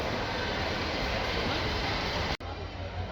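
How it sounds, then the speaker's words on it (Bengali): A train pulling into a railway platform at a busy station, heard as a steady loud broadband rumble that fills the clip, with a brief dropout near the end before the roar resumes. "এই তো আমাদের ট্রেন চলে আসছে"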